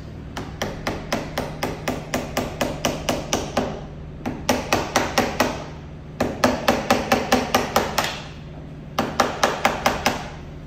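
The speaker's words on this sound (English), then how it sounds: "We're going to unscrew it, and we're just going to do gentle taps." Gentle metal taps against a spa diverter valve being loosened, landing in quick regular bursts of about ten taps each with short pauses between, close and fairly loud over a low steady hum.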